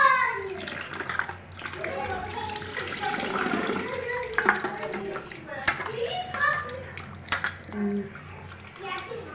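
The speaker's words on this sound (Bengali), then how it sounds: "একটা একটা করে পিস ভালো করে ধুয়ে নিয়েছি।" Water splashes and runs as mutton pieces are washed in a bowl, with irregular sloshes and clinks under ongoing talk and children's voices.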